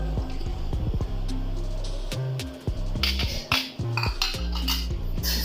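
A raw egg with white and black pepper whisked for a chicken shashlik marinade, with quick metallic clinks of utensil against bowl, close up, over steady background music.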